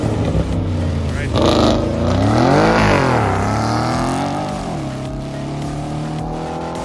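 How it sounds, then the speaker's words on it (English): Race cars out on track, a Mini Cooper and an Audi S6, rev and accelerate with rising and falling engine tones, loud and sustained, with talk over them. "the two cars out on track are among the fastest cars that we have had today"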